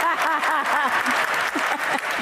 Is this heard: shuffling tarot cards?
no